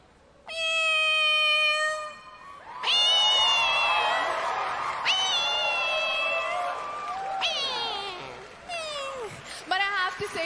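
On a pageant stage, a contestant imitates a cat with long, loud, wavering meows and yowls one after another, a crowd cheering and reacting underneath.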